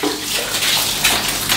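Water pours and splashes across the floor during household cleaning and mopping, a loud steady rush with a few sloshing surges.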